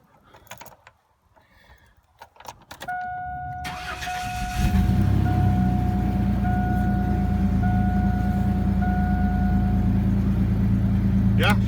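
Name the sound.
2001 Chevy S10 pickup truck engine cold start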